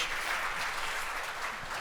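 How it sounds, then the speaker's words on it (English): Brief burst of audience applause for a panel on stage at a breakfast briefing, a steady wash of clapping from a moderate crowd in a room, heard alone. "Round of applause to these wonderful people on stage"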